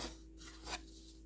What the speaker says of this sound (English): get some sandpaper on there.